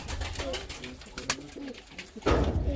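Bulgarian Bango pigeons coo softly in low, throaty bursts close by in a coop, with rustling and faint talking in the background.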